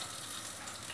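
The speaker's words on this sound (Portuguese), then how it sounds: "Então vamos acrescentar o milho para as pipocas." Popcorn kernels drop into hot oil in a pot and sizzle with a steady, hissing frying sound, close and continuous, with no voices.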